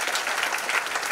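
Audience applause at a business talk in Nagpur, dense continuous clapping from a crowd at a steady level throughout the short burst.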